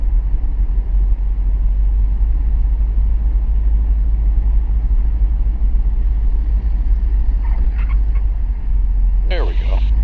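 Small airplane engine drones steadily and loudly in the cabin during a wheel landing at Oskaloosa, Iowa airport, a deep constant rumble with brief faint tones near the end.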